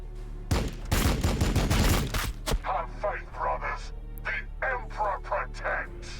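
A loud, fast volley of gunfire in the Warhammer Battlesector video game bursts out, then gives way to a voice talking over game sounds.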